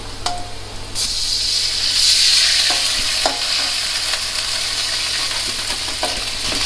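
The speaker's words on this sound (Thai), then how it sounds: "เราจะใส่เครื่องใส่น้ำนิดนึงทีิงตองใส่น้ำสต๊อก" Snakehead fish stir-fry in a wok hisses into a loud steamy sizzle as water and seasoning go in, with a few spatula clinks and scrapes, close and continuous with no talking.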